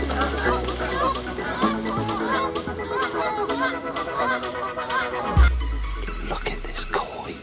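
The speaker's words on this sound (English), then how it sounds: "Keep my eye out for Samson, the brute, and all his little minions and Canada geese." Canada geese honk repeatedly at a fishing lake, their calls carrying over a busy background of voices and children at play.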